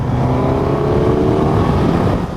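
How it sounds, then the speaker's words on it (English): A Suzuki GSX-S1000GT motorcycle engine roars steadily under hard acceleration in fourth gear, a loud, close, throaty intake growl that holds for a couple of seconds. "Nice little bit of an induction roar there"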